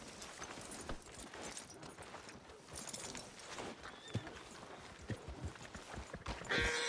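Horse hooves clip-clop at a walk in the video game Red Dead Redemption 2, with a neigh or whinny among the steps. The sound is quiet and close, and there is no talk over it.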